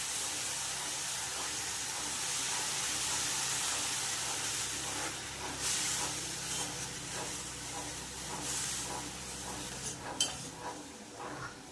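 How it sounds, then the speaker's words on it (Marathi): Fenugreek (methi) leaves with salt are stir-fried in a pan, giving a steady soft hiss and sizzle with faint scraping of the stirring utensil throughout. "मीठ टाकल्यानंतर छान असं परतून घ्यायचं आहे."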